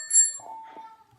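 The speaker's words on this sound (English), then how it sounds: "and then I got like a bicycle bell." Two quick, bright chimes from a bicycle bell, used as a sampled sound effect in a music production, ring out crisply up close and fade within about a second, with no one talking.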